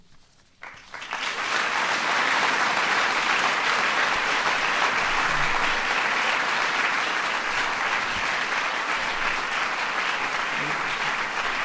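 Sustained, loud audience applause at a Points of Light award event honoring the 5000th Daily Point of Light, rising quickly and holding steady throughout with no speech on top.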